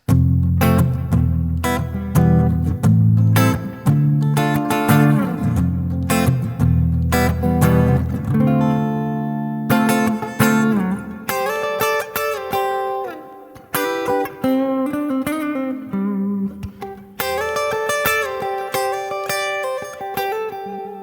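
Electric guitar run through a Kemper Acoustic Double Tracker to mimic an acoustic guitar, heard as a loud, close passage of strummed chords followed by brighter picked, ringing notes over about twenty seconds.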